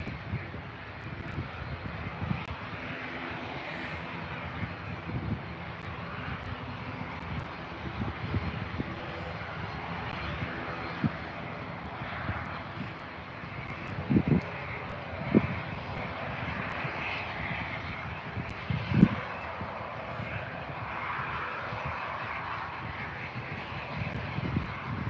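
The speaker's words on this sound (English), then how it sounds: "Got your Aer Lingus ATR 72600 now. On its way over to Belfast, just taxiing." An Aer Lingus ATR 72-600 turboprop airliner taxis at Birmingham Airport, a steady droning engine hum held at a distance, with a few louder thumps and bumps along the way.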